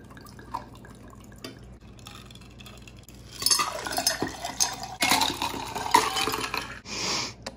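A margarita is poured and mixed at home, quiet at first, then a burst of liquid splashing, clinking glass and ice rattling close by for several seconds.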